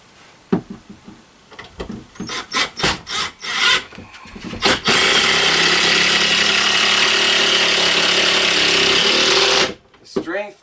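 A power driver sends screws through a kitchen cabinet into a wall stud in a tiny house, several short whirring bursts followed by one long, loud continuous drive that stops abruptly, close by.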